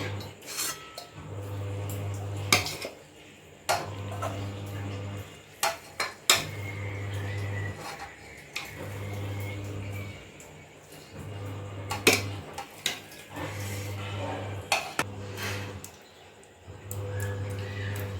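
Prawn biryani scooped from a pot into a serving dish, with repeated scraping and clinking of a metal spoon against cookware in irregular bursts, over a steady low hum running in regular pulses.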